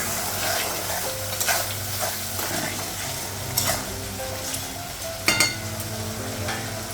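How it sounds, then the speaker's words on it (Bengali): Coriander powder and spices fry in a pan for a Bengali dish, a steady sizzle with stirring scrapes and a few louder clinks of a utensil against the pan. "ধনে গুঁড়ো, মশলাগুলো ভেজে নেব।"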